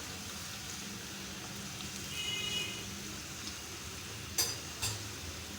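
Potato finger chips frying in hot oil make a steady, soft sizzle with faint bubbling throughout, broken by a couple of brief sharper clinks near the end.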